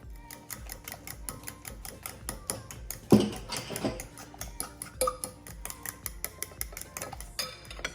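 Spoon tapping and stirring in a bowl of Creole seasoning, Worcestershire sauce and celery for Cajun crab stuffing, a quick run of light, regular clinks and taps, close and fairly quiet, with no talk.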